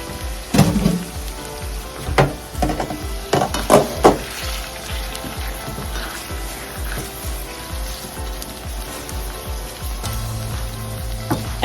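Shrimp dropped into a hot pan with jalapenos while cooking creamy fettuccine, loud sizzling and spitting with clattering, stirring knocks early on, then settling into a steady, quieter fry.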